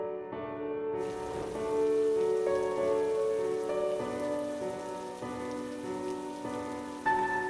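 Rain in an animated horror story scene, a steady patter of drops on a surface that carries on throughout, backed by a sustained tonal music bed and heard without talk.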